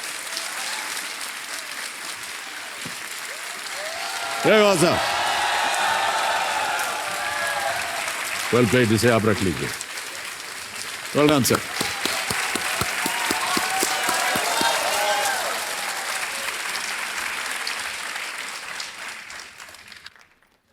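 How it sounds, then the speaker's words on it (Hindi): Studio audience applause on a Hindi television quiz show, a steady sustained clapping that swells after a correct answer and winning prize, continuing for about twenty seconds with a host and contestant speaking briefly over it. "तालियां बज जाए इनके लिए"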